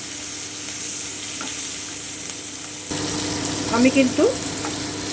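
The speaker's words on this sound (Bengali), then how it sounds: "এবারে আমি চিংড়ি মাছের মাথাগুলো দিয়ে দিচ্ছি। আমি বেশ লাল করে একটু ভেজে নেব" Prawn heads fry in hot oil over lowered heat, a steady close sizzle that grows noticeably louder and crackles more midway through, with a short spoken remark over it near the end.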